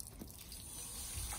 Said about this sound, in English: Get the hose and just rinse it out.